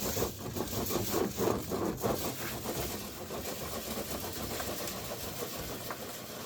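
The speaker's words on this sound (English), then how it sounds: "Even the little ones can run the turbo sift." A worm gear turbo sifter runs with a steady mechanical engine-like drone and rhythmic chugging pulses, continuous and moderately loud throughout.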